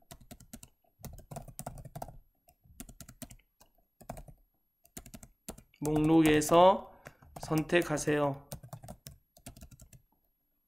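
Keys clatter in uneven bursts as someone types on a computer keyboard, close and fairly quiet, broken by two stretches of speech in the middle and then more typing.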